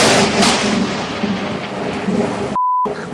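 A lightning strike's thunder rumbles loud and close in a continuous roar with a sharp crack near the start, played back through a stereo amplifier and cut off briefly by a short beep near the end.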